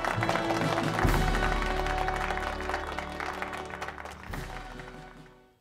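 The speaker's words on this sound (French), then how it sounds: "Applaudissements pour ces trois demoiselles." Applause from a pageant audience for three contestants, moderately loud under music-like tones and a low hum, fading out toward the end.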